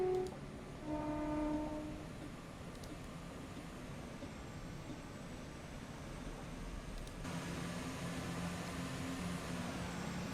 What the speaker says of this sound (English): It's quite a loud train, as you can see and hear.